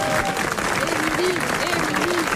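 Studio audience applause for a French radio comedy panel show, a steady broadband clatter of many hands lasting a couple of seconds, with a voice talking over it.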